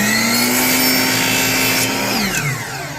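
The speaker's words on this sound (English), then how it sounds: "So let's cut our first board." A loud power saw cuts through a wooden board for patching drywall, its motor whining steadily at high pitch before dropping in pitch near the end as the cut finishes.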